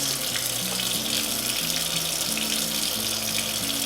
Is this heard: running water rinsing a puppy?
yes